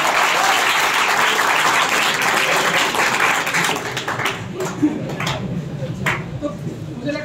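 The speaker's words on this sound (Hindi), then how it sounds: "इसलिए मैं आशा करता हूँ आप भी मेरे लिए तालियां एक दो और बजाएंगे।" Students at a college legal awareness camp applaud in a loud, dense burst of clapping that thins out and fades after a few seconds, leaving scattered claps and faint background sounds.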